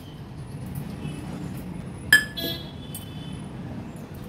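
A utensil clinks once against a bowl while thick amrakhand is scooped into it, a sharp close metallic tap over a quiet kitchen background.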